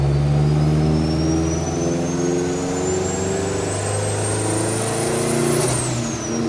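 A BMW E46 M3 Compact, built up to 600 horsepower with all-wheel drive, runs on a dyno with a loud, steady engine drone and a thin whine that slowly climbs in pitch, then drops off near the end.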